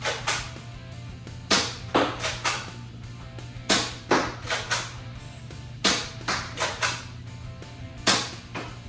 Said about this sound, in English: Now we'll show you this thing firing. Firing some elite darts.